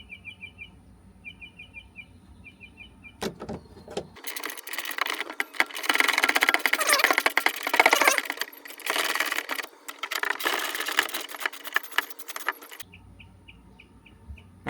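Bolts on a subwoofer in a 2024 Mustang Dark Horse being unscrewed with a whirring power driver in a long, dense burst, close by, with faint bird chirps in the background before and after and no voices.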